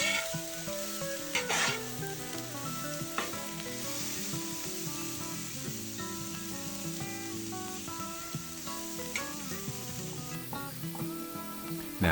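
Butter sizzles on a Halo flat-top griddle during cheesesteak cooking, seasoned with kosher salt and coarse black pepper, giving a constant close crackling hiss with occasional scraping taps of a spatula and no talk.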